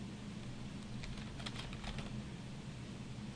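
Quick, light keystrokes on a computer keyboard, a short patter of clicks over a faint steady hum, quiet and close, ending in one sharper tap.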